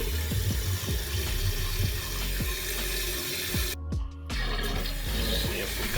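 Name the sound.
toilet flushing and tank refilling after repair kit install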